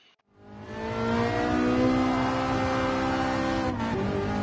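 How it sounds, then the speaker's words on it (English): A race car with a manual gearbox in Gran Turismo Sport revs up after a brief quiet start into a loud, sustained, harmonic-rich engine roar, with a slight dip near the end, and no voices. "Ah, this car sounds great."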